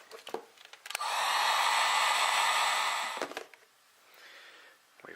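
A heat gun blowing hot air onto a TractionGrips grip on a Walther PPS 9mm pistol, a steady loud whooshing roar for about two seconds that then cuts off, with small handling clicks before and after.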